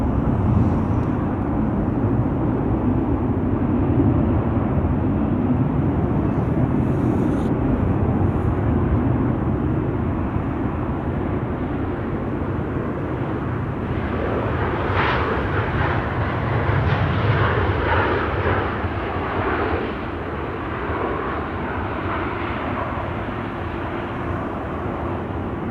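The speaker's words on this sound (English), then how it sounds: "KLM triple on the move." A KLM Boeing 777 airliner taxiing at Amsterdam Schiphol gives a steady, broad engine roar that holds throughout, with a brief brighter whine swelling in the middle and no voices.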